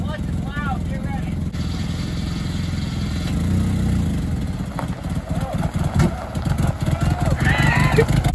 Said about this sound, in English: So let's put it in gear, hope we have a transmission, hope the clutch is all right, and take it for a spin. The clutch is loud, get ready.